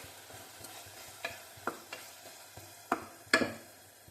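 Green chilies and coriander leaves frying and being stirred in a pan while making a Telugu gongura brinjal dish, with a soft steady sizzle broken by several sharp scraping stir strokes close by.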